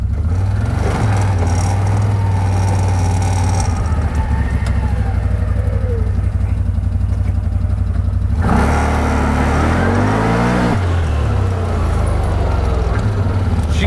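A CFMOTO off-road vehicle fitted with an RNG clutch kit climbs a concrete incline, its engine droning loud and close and rising in pitch with the throttle, with tyre scrubbing and a sharp surge partway through.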